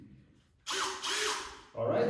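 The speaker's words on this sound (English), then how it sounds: "I'll be using this fantastic eyeball drill machine which will be supporting me." Power drill whirring in bursts while an IKEA BESTA TV bench is assembled indoors, one sustained run of about a second, then a sharp restart with a loud, close-up motor whine and ratcheting edge.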